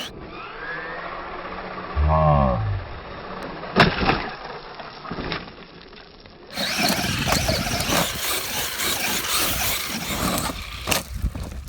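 A Traxxas Maxx 4S RC truck's electric motor revving at full throttle over dirt jumps at a mountain bike park, a rising whine followed by a sustained loud buzzing roar with clatter and bumps, close and outdoors.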